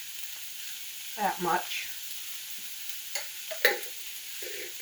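Half an onion dropped into a hot pan for a home-cooked weeknight dinner, a brief sizzle and crackle flaring up briefly before settling into a soft fry, with a short spoken phrase.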